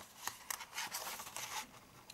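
Scissors cutting through card in a crafting session, a series of sharp snips and crisp slicing scrapes at close range, irregular in rhythm and heard alone.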